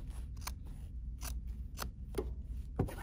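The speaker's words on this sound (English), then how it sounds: "I'm just going to trim this off just a little bit and just cut" Sharp scissors snip through a crazy quilt fabric piece being trimmed, giving four or five quick, crisp cuts spaced about half a second apart, close and fairly quiet with no talking.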